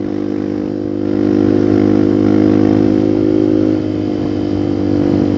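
A motorcycle engine drones steadily close by and swells as it accelerates, holding a strong, sustained ride-along hum without speech.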